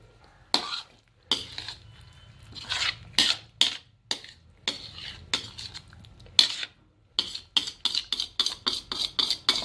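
A metal spoon scraping and clinking against an open pan of fish karahi curry, in bursts of quick rhythmic strokes up close with short pauses between, no talk.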